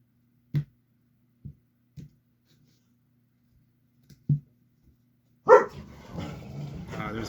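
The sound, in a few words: dog barking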